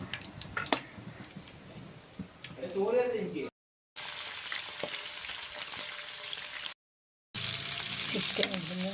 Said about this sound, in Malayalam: ഒരു സ്പൂൺ ഉപയോഗിച്ചിട്ട് ചിക്കിയെടുക്കാം.